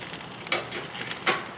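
Butter and Gulf oysters sizzle over an open flame, a soft steady crackle with a few brighter pops and hisses standing out near the middle and the end.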